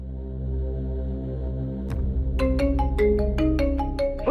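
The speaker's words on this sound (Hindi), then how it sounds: "ऐसे ही फोन बजता है" A phone ringtone starts up and plays a repeating electronic melody of bright, evenly spaced tones over a low steady hum.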